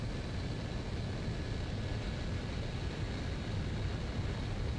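A Ho-229 flying-wing jet in War Thunder drones steadily as it slows for landing with gear and flaps lowered, a continuous even engine and airflow rumble without talk.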